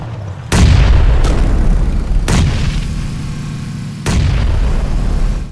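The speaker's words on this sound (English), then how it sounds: "We're about getting shot at by the other team." PUBG gunfire from an opposing team: four loud, sharp booming shots spaced irregularly, each trailing into a heavy low rumble, close and dominant with no talk over them.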